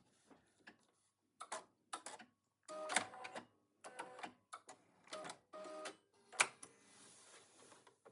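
A sewing machine back stitching quilt binding toward a corner, in short bursts of rapid mechanical stitching separated by brief pauses, close and fairly quiet, with no talk.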